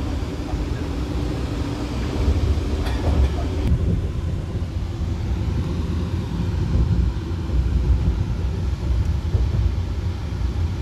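A Vande Bharat Express train on the Pune to Kolhapur run gives a steady, loud, low rumble with broadband rolling noise that carries on throughout, with no voices over it.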